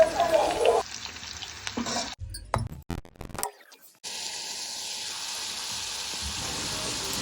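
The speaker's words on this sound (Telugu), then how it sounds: "ఆయిల్లో బాగా ఫ్రై అవ్వాలి బీరకాయ." Ridge gourd deep-fries in oil while being stirred. A close, dense sizzle is broken by a few abrupt cuts and knocks, then settles into a steady, even hiss of frying.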